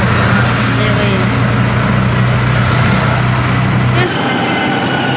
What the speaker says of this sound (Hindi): तो ये मेट्रो जाएगी दिलशाद गार्डन